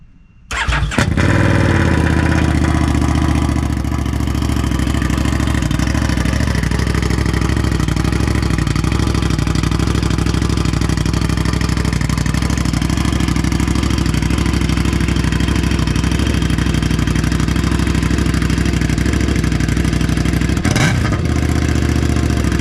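A Buell or Harley motorcycle engine with the fiberglass packing gone from its exhaust starts up after a brief crank, then idles loud and close with a steady, rough, unmuffled rumble for about twenty seconds.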